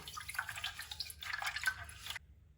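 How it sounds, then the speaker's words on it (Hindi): Water splashes and drips close by as hands are rinsed, in two short bursts of wet splashing before it stops, with no talk. "फिर उसके बाद आप हाथ धो लें, मुंह धो लें।"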